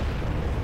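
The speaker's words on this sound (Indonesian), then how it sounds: "Udah meledak sono kamu" An explosion in the Roblox game Goofy Runners gives a brief, dense low rumble, loud and close, with no talk.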